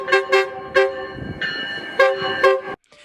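K2 train horn sounding a chord in several short, loud blasts followed by one sustained blast that cuts off abruptly, close and clear with no voices.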